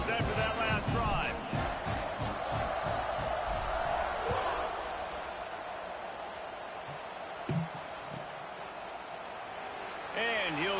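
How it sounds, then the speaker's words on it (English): A stadium crowd in the NCAA 26 college football video game roars loudly after a scoring drive, a dense cheering wash that eases off midway while a commentator talks over it. "this crowd is feeling themselves after that last drive."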